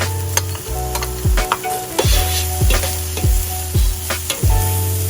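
Diced red onion, half an onion, sizzles loudly in a pan with red peppers for a Peruvian arroz con pollo, with repeated stirring scrapes cutting through a steady frying hiss.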